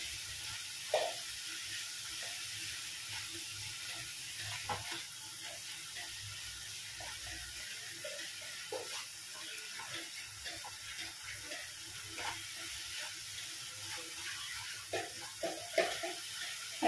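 Stuffed potatoes for a vegetarian aloo dum being sautéed with a little sugar in a pan, a soft continuous hiss under scattered light scrapes and clinks of the spoon, faint and close.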